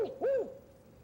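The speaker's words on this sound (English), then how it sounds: "The spotted owl has a special pattern to his hoot." A spotted owl hoots in a forest, giving a short burst of low, rising-then-falling hooted notes, clear and fairly close, then fading into quiet.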